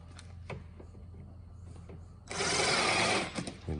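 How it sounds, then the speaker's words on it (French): A power screwdriver drives a screw into a plastic mudflap on a Tesla Model Y, a single loud whirring burst of about a second after quiet handling clicks and taps. "On fixe, on appose et on visse."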